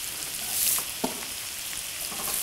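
Onions and ginger fry in a pan, giving a steady close hiss of sizzling with occasional scrapes and taps from stirring, no voices over it.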